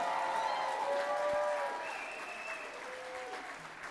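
A gala audience claps steadily. The applause stays full for a couple of seconds, then eases slightly, and a few voices can be heard beneath it.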